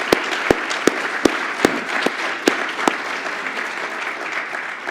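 Applause fills the room at a legal forum on access to justice, honouring a chief judge: a dense wash of hands with several sharp individual claps standing out at a roughly steady pace.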